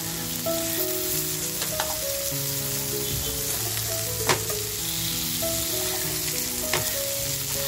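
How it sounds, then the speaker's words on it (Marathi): Surmai fish fries on a full flame in a pan. The oil gives a constant, dense sizzle with occasional crackles and pops, heard close up and alone. "तर बघा आपली सुरमई तर छान फ्राय झालेली आहे"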